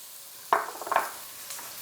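Food drops into a hot oiled pan while cooking grilled flat iron steak, a brief hissing sizzle swelling after each addition with a faint clink of utensils.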